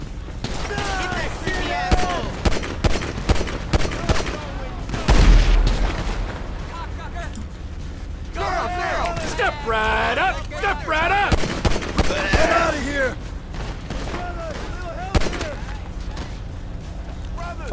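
Gunfire from shotgun and pistol in the video game Grand Theft Auto V, with repeated sharp shots and a heavy boom near the middle, mixed with game character voices throughout.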